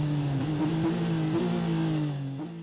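Onboard engine of the number 91 Porsche GTE Pro race car in qualifying at the Nürburgring, loud and close, pitch rising and dropping sharply through quick gear changes under a steady roar.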